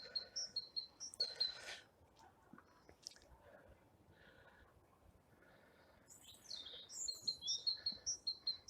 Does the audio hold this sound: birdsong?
yes